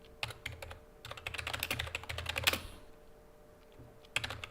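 Someone types on a new computer keyboard in fast, clicky bursts, stops briefly, then types again. The keystrokes sound close and are heard alone.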